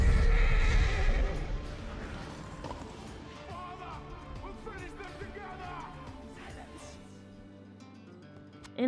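A horse whinnies in loud, shaking bursts while hooves clip-clop steadily underneath, fading somewhat over the stretch.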